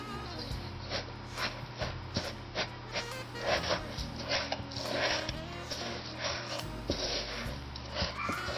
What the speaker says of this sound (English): I'm going to go through and stir that up some just with a whisk.